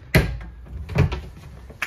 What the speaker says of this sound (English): Soft closed doors even.